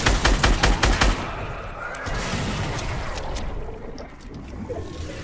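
Gunfire in the video game Fortnite, a fast burst of close, loud automatic shots in the first second, followed by a rushing, noisy background.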